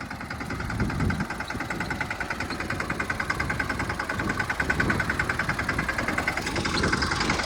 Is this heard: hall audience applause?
no